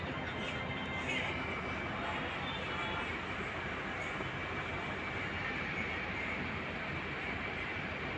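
A goods train crosses at Golakganj railway station in Assam, passing a halted DMU, as a steady broad rumble with a thin, high wheel squeal running through it.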